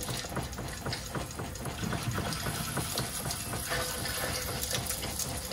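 Hot water runs from a handheld shower wand fed by a tankless water heater in a camper van, a steady, close hiss and splatter of spray that continues evenly without any voices.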